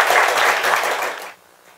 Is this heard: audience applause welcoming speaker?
yes